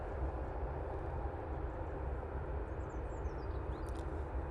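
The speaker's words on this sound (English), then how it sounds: "I hope you enjoyed that 340 departure" An Airbus A340 departing Manchester Airport gives a steady, broad jet roar that holds at an even level throughout, heard from a distance with no voices.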